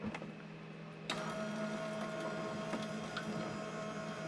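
A Sizzix Big Shot Switch Plus die-cutting machine runs a sandwich of plates through its rollers with a steady motor whir and faint mechanical clicks. It starts with a jump in volume and holds close and even.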